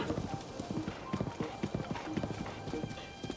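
Horse hooves clip-clopping at a steady riding gait in The Legend of Zelda: Breath of the Wild, rhythmic and fairly close, with a soft whinny and talk over the top.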